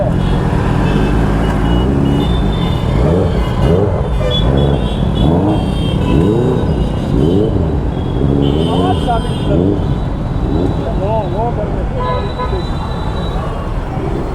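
A superbike engine revs repeatedly at a roadside police stop, its pitch sweeping up and down in rising and falling bursts over steady traffic noise, close and loud, with people talking throughout.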